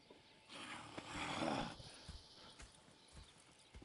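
Horses in the video game Red Dead Redemption II, with clip-clop hooves and a whinny rising mid-clip, then scattered hoof thuds fading, moderately near with no talking.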